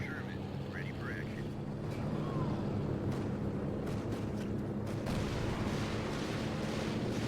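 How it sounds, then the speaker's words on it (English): Stuka dive-bomber air strike explosions in the World War II strategy game Company of Heroes 2, heard as a low, rumbling wash of distant blasts and battle noise beneath ongoing talk. "Nice Stuka strike hurting the Jackson a bit."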